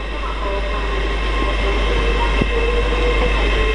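Class 800 train 800-106 passes through Doncaster station on the East Coast Main Line, a loud, steady rumble and hum of the train close by, with a faint sharp knock partway through.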